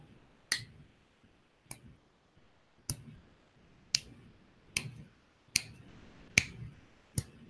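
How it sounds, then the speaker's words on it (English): Eight weak finger snaps spaced roughly a second apart, each a sharp, thin click in a quiet room, fairly close but soft. "I'll snap just to show you that I can't snap"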